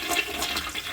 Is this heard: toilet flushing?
yes